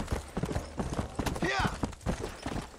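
Horse hooves clip-clop at a steady gait while a horse is ridden in the Western video game Red Dead Redemption, the rhythmic hoof beats running under a talking voice and other game sounds.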